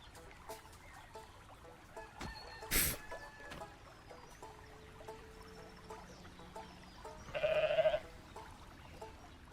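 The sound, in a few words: goat bleating in video game Goat Simulator 3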